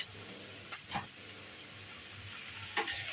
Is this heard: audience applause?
no